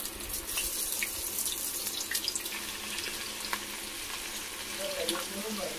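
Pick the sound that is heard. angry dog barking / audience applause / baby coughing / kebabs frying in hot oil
kebabs frying in hot oil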